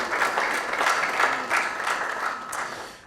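An audience claps for a guest at an economic forum in Ghana, a dense, even round of applause that holds steady and then fades out at the end.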